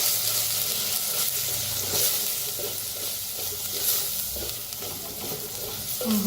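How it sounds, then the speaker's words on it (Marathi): Continuous loud sizzling of spices roasting in oil, with intermittent scraping and stirring sounds close by. "कसं तेल सुटते बघा कडनी मसाले भाजताना"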